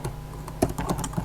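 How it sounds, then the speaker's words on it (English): Quick typing on a computer keyboard, a short burst of light irregular key clicks heard close and alone. "Let me be typing it so that we're seeing it."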